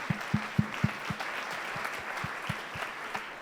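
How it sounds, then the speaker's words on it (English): Applause from an audience at a performing arts event, a burst of sharp claps at the start thinning into a softer, steady patter of clapping that carries on throughout. "So how about another round of applause for all the programming going on there?"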